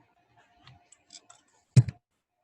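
A few faint computer keyboard clicks, then one sharp, close keystroke with a short rattle in an otherwise quiet room.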